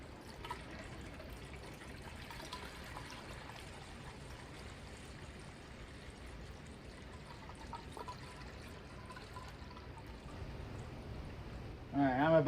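Liquid pours into a car radiator, a quiet steady trickling stream that continues evenly before a louder splashing burst at the end.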